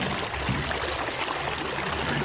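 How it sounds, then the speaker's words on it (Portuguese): A stream flows gently, giving a steady broadband rush and trickle of water that stays even and close throughout, with no voices. "A água flui suavemente"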